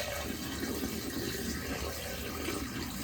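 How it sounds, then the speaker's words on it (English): Water poured from a container down a bathtub drain in a motor home, a steady close rush and gurgle of flowing water running continuously without pause, with no talk. "I guess what we could do is just dump it down the bathtub."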